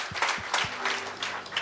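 A church congregation applauds together in a steady wash of clapping. A few low voices rise briefly through it during the service.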